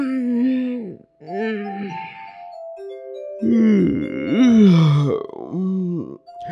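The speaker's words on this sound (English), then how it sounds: "But why are we all yawning?" Several drawn-out, groaning yawns follow one another, some low and gravelly, others rising and falling, close and fairly loud with short gaps between them, from a children's show about why people yawn.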